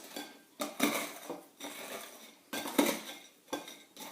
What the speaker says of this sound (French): vous allez prendre les biscuits que vous allez écraser à la fourchette et on va mélanger à la poudre de noisette